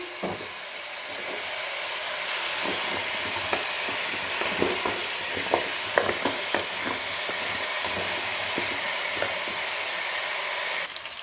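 Grated carrots sautéing in ghee for carrot halwa, a continuous loud sizzle with scattered scraping clicks of a spoon stirring the pan, no talk.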